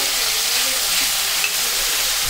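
Chopped carrot and tomato get stirred into a frying hotel-style puri curry, producing a steady, close sizzling hiss with light stirring scrapes and no talk.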